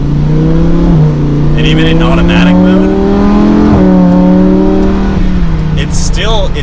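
Lamborghini Huracan engine revving under acceleration in automatic mode, loud rising engine howl with repeated gear-shift dips and climbs, heard up close with bits of talk over it.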